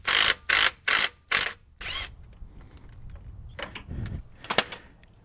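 A ratchet wrench loosens a bolt on the axle of a GM 4WD K truck, giving four quick, loud ratcheting bursts near the start, followed by softer clicks and metallic clunks.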